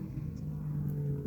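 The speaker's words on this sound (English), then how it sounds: "Sorry about the noise in the background. I live near a main road, and man, that was really loud." Car passing on a nearby main road, heard as a low continuous rumble with engine drone, steady and fairly faint, with no voices over it.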